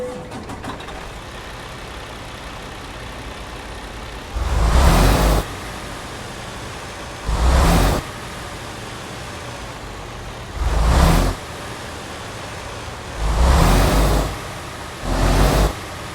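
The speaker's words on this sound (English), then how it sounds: "Now we have a Detroit diesel DD16 600 horsepower engine in this bad boy" A Detroit Diesel DD16 600-horsepower truck engine in American Truck Simulator idling low, then revved five times in short bursts of a second or so, loud and close, with the idle returning between each rev.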